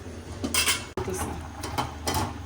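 A metal lid lifted off a cooking pot of simmering tomatoes, giving a few light clanks and scrapes of metal, fairly soft and close, with no talking.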